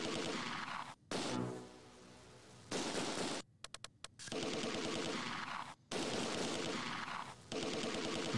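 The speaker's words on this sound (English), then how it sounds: "Well, these guys are shooting." Bursts of rifle and machine-gun fire from the wartime strategy game Close Combat 2: A Bridge Too Far rattle in repeated volleys, broken by short silences and a quick sputter of separate shots.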